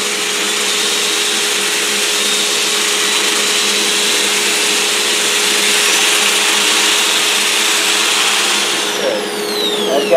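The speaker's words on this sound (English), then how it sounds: "Lathe's coming to me, so I've got this turning in the opposite direction for the smoothest" Wood lathe spinning a bowl blank in reverse at slowed speed, a steady broadband whir with a constant low motor tone, loud and close, running almost unchanged before a brief change near the end.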